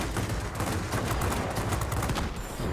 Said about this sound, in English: Just the 23mm cannons.